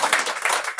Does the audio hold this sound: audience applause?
yes